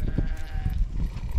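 Sheep bleating in a barn they share with pregnant mares, a close, wavering bleat heard over low barn rumble and shuffling, fairly loud with no talking.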